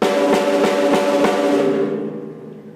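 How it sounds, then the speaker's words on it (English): Several quick snare drum hits from a drum kit in a loose rhythm, crisp and bright with a buzzy rattle, played alone and ringing out to a fade. "which plays the snare drum."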